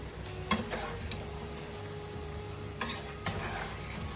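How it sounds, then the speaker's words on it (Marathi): Dal (amti) with drumsticks being stirred in a pot: a low continuous bubbling hiss broken by a few sharp ladle clinks and scrapes against the metal, close and fairly quiet. "आमटी ढवळायची."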